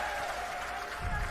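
Audience at a political rally clapping with raised hands, a steady broadband wash of applause that swells louder near the end, with a faint voice underneath.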